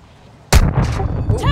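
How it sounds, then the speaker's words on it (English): Gunfire in an online military game with a heavy helicopter, a sudden loud burst of shots and booms close by, continuing as rough rumbling under faint talk. "Taking effective fire!"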